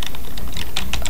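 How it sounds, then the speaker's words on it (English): Computer keyboard keys mashed during Minecraft play: a rapid, irregular burst of close, sharp clicks and clacks with no talk. "I'm literally pressing all the buttons on my keyboard right now."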